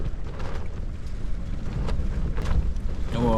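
Strong wind roars and buffets a tent during a wild camp on Dartmoor, a dense low rumble with flapping gusts, close and continuous.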